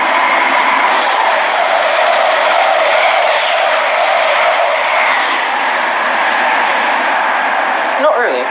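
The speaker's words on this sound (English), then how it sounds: "I currently am at the train station" A train sits at a railway station, giving a steady loud rumble with brief metallic squeals and one sharp clatter near the end.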